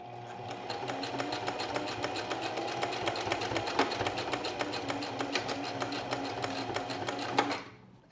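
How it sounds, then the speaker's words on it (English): Sewing machine running steadily as it stitches along the drawstring of linen pants, a fast even needle rhythm close up for about seven seconds before stopping. "I'm just going to be sewing along the drawstring"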